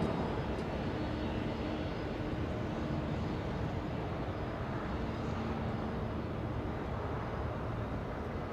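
At Los Angeles International Airport, a Boeing 767 jet taxis to a gate. Its engines make a steady, faint, distant drone that blends with broad airport rumble and holds for several seconds.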